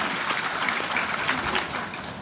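Audience applause fills the whole moment, a steady, dense wash of many hands clapping at moderate loudness with no voices above it.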